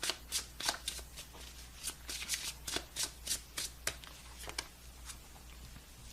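Tarot cards being shuffled in a quick run of crisp riffling bursts, close and fairly quiet, with no one speaking.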